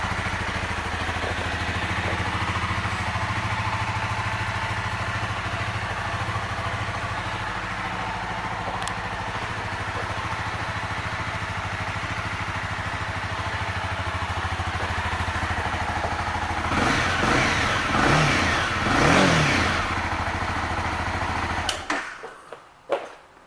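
A 2018 Honda CBR300R sport motorcycle idles steadily up close, then revs in a few quick blips before cutting off abruptly.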